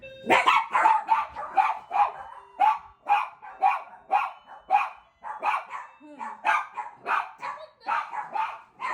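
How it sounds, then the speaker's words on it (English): Two small high-pitched dogs bark rapidly and excitedly at a late-night doorbell in a continuous string of sharp yaps, close and fairly loud, with no pause. "When you have two yippy dogs and someone rings your doorbell late at night"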